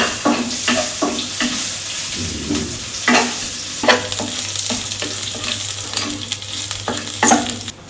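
Garlic cloves sizzle steadily in hot oil and ghee while a utensil stirs and scrapes the pan in repeated strokes, close and continuous.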